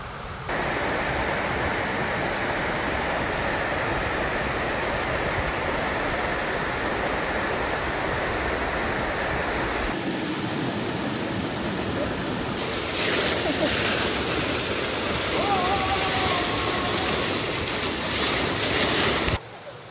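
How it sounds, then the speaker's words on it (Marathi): Waterfall near the Kondhane Buddhist caves, a steady broadband rush of falling water that fills the clip from start to end and swells louder in the last few seconds, with no voices over it. "वॉटरफॉल बघा किती छान आहे, किती सुंदर आहे."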